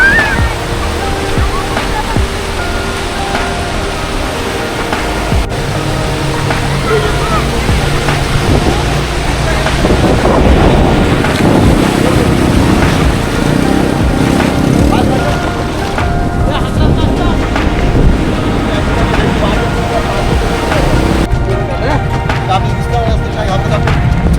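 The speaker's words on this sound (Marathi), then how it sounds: "आपली बोट आली आता जी फोर्टकडे जाणार आहे" A boat approaching at sea near Kulaba fort, with steady engine drone and waves washing against the hull, continuous and fairly loud throughout while people talk over it.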